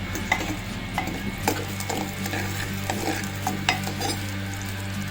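Onion sautéing for a Malvani dry mackerel curry, with rhythmic spoon scrapes and clinks against the pan over a continuous sizzle, close and distinct.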